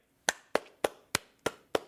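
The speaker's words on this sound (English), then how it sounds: "This is me clapping" Six sharp hand claps ring out at a slow, steady pace, each one crisp and isolated against near silence.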